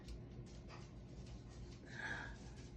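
A pet dog pants softly nearby in a quiet room, with quick breathy huffs that swell slightly toward the end, faint and with no talking over it.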